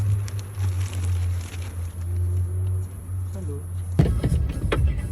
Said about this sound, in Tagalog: i-parking na natin yung sasakyan.